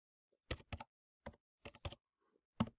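Several quick bursts of typing on a keyboard outdoors in the cold, short clustered clicks separated by brief pauses, close and clear with no talk.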